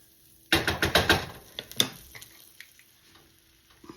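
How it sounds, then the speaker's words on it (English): Butter, about three-quarters of a stick, dropped into a hot skillet while making shrimp pasta, bursting into a loud sizzle that fades to softer crackling and occasional pops. "let's put in some more butter. This is about another 3/4 of a stick. So we're going to put that in there and let that melt"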